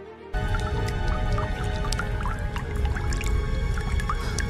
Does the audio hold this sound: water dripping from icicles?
yes